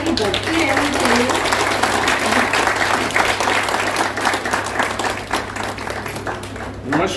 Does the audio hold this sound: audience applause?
yes